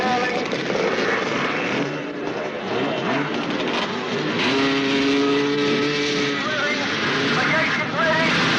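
250cc motocross bikes blasting off the start line at a 1977 world championship round in Britain, a dense buzzing roar of many two-stroke engines at full revs, under excited commentary.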